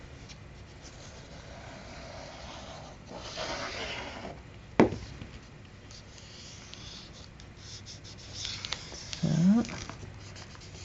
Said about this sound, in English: The key to this is burnishing really well.